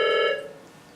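A telephone rings once in a short, bright electronic trill that cuts off and decays into quiet room noise.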